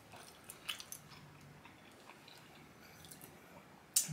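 Soft, close chewing and squishing on a smoked salmon roll with cream cheese, heard as faint, irregular wet bites over quiet background, with a sharper click near the end.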